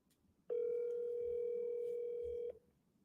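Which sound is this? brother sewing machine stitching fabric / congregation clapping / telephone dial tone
telephone dial tone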